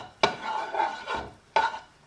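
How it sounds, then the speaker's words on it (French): Rice stirred in a saucepan on a stovetop at medium heat, giving soft continuous scraping swishes with a few sharper knocks of the utensil against the pan, close and alone. "on va mettre tout le riz dans la casserole, après on va mélanger"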